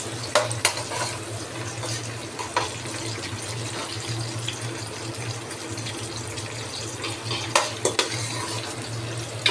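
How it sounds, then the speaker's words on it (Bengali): Chopped onion stir-fried in mustard oil for biriyani, a steady close sizzle broken by a few sharp spoon-against-pan clinks and scrapes, with no talking. "এর মধ্যে দিয়ে দিচ্ছি পেঁয়াজ কুচি,"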